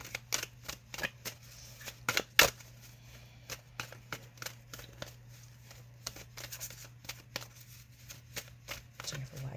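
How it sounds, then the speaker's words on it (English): Repeated quick riffles and soft snaps of playing cards being shuffled up close, in uneven bursts over a faint steady hum. "I'm shuffling cards because they soothe my mind"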